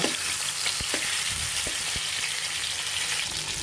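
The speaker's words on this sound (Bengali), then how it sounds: "এখন পটলগুলো হালকা করে ভেজে নিব আমরা এখন এভাবে উল্টিয়ে পাল্টিয়ে নিব" Pointed gourd (potol) pieces fry in hot oil with a loud, continuous sizzle, broken by several soft knocks and scrapes as they are turned in the pan.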